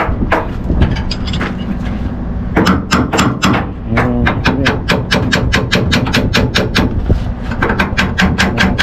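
A hammer strikes metal repeatedly while workers align a 35 kW electric motor, sharp close blows coming in quick bursts and steady runs against a low workshop hum.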